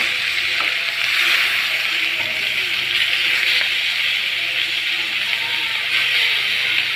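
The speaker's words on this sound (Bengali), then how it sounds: "মাছগুলো ভাজা হয়ে গেছে" Pieces of rui fish fry in oil with an even, steady hiss and fine crackle, close and fairly loud, unbroken across the whole stretch with no voices.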